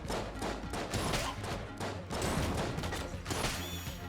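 A cannon and guns firing in the Enter the Gungeon video game: a dense, loud, continuous barrage of overlapping shots and impacts throughout.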